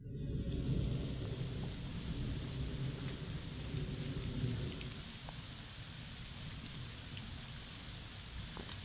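Morning rain falls steadily in a village setting, a dense, even patter on surfaces with a low distant rumble underneath, with no voices.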